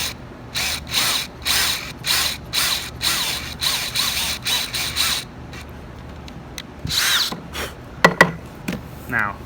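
Drill with a smaller bit cutting an angled pocket hole into wood, a series of short pulsing bursts in quick succession, then a pause and a couple of final bursts with clicks and handling knocks.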